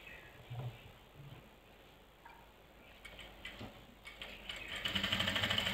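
A sewing machine stitching close along a garment neckline, starting with a few faint soft bursts and building into a fast, steady mechanical chatter near the end, with no talking.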